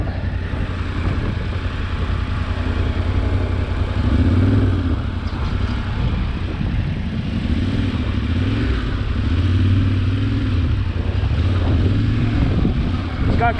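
Yamaha Tenere 700 adventure motorcycle riding, its engine rumbling steadily with wind noise and a couple of throttle swells, close and continuous with no talk.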